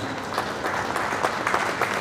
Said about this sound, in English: How about a big round of applause for these two beautiful couples